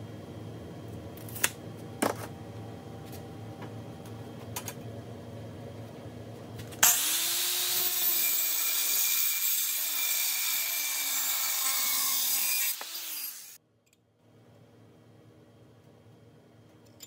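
A power saw cuts a metal radiator bracket for a C10 truck project, a loud steady broadband whine lasting about six seconds after a stretch of quieter shop noise with clicks, then stopping abruptly into near silence.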